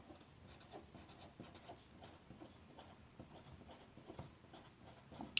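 Pen or marker writing by hand on a board or paper, a faint, steady scratching with irregular strokes throughout, quiet and close with no voices.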